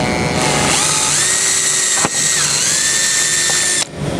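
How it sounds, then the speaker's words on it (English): A power drill whines loudly and steadily, its pitch dipping as the bit bites into a metal transmission valve body, briefly pausing midway before a final stop. "it's a pretty easy hole to drill"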